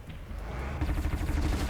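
Ravager machine in Horizon Zero Dawn firing its cannons, a dense run of rapid booming shots that swell louder midway and keep pounding without pause.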